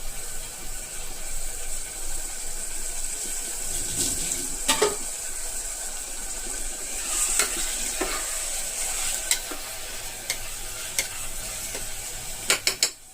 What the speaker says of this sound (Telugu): దీంతో పాటు మనం పచ్చిమిర్చి వేసేస్తాం.